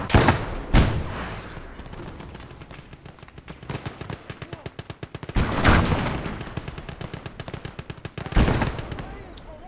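Game gunfire in the WWII battle game Gates of Hell: Ostfront, a U.S. versus Germany conquest match: long rattling machine-gun bursts with loud heavy booms, close and dominant across the whole stretch.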